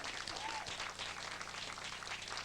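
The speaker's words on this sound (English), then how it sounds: "nice round of applause?" An audience gives a round of applause for a pianist at a live show, a steady wash of clapping that holds evenly for the whole short stretch at moderate distance.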